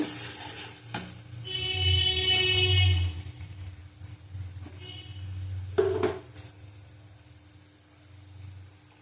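Katla fish masala tempered with fenugreek is sautéed and stirred in a pan, with steady close scraping and soft sizzling that swells and eases throughout and no talk.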